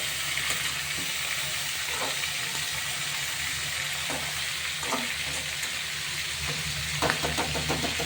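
Steady, loud hissing sizzle of a catla fish head frying in oil, with occasional faint scrapes of a utensil against the pan.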